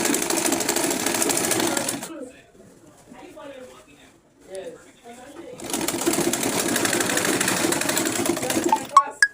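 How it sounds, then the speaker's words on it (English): A sewing machine stitches fabric for an auto gele headwrap in two loud, close, whirring bursts with a quiet gap between them, and a voice talks during the pause. "I'll start sewing from this 4 inches down to this other side."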